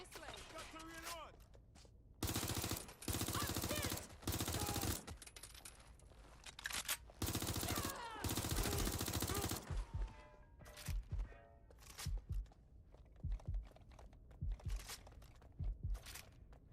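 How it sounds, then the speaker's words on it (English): Bursts of enemy gunfire from the video game Watch Dogs: Legion crackle in loud, dense volleys with short pauses between them, close and harsh, and thinner shots trail off toward the end. "Target is firing!"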